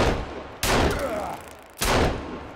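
Two sharp, heavy gunshots about a second apart fire in the video game Sons of the Forest, each one cracking loudly and then fading into a lingering rumble.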